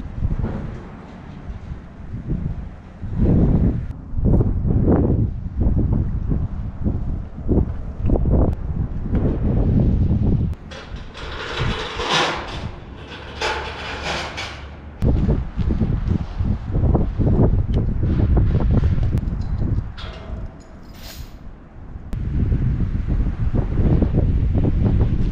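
Strong gusts of wind buffet the microphone at a lakeside patio site, a rough rumbling roar that swells and eases in uneven bursts, loud and close, with a hissier stretch partway through.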